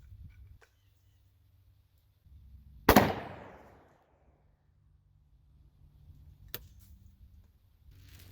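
A Stevens 301 20 gauge shotgun with an extra full choke fires a single sharp, loud outdoor blast that decays over about a second, followed by a faint click and quiet ambience.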